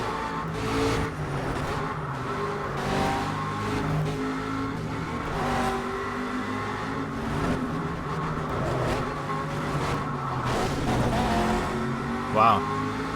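An Aston Martin V8 Vantage GTE race car in the Project Cars video game revs and shifts continuously under hard driving, with tyre squeals and skids near the end and someone talking over the engine noise.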